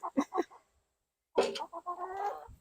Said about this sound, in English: She gets to hold the chicken.